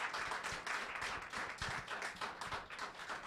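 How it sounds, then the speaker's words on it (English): Audience at an African scholars awards ceremony clapping to thank sponsors, a moderate, fairly thin round of applause with individual claps audible, somewhat distant. "I hope you'll join me in a round of applause to thank our sponsors."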